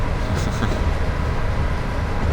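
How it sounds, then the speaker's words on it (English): A long Class 87 mail train rolls past in a Train Sim World railway game, a steady loud rumble of wheels and wagons throughout with no clear gaps. "Hello, 87 with a mail train. Yeah, I thought so. That is a long train, wow."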